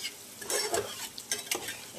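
Potatoes frying in hot oil in a home kitchen hiss and sizzle, broken by a few quick scraping stirs of a utensil in the pan.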